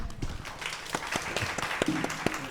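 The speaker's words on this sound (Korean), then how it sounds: "박수로 맞이해 주시죠" Moderate applause from a modest crowd at an education policy talk concert, scattered individual claps standing out against a soft, steady patter.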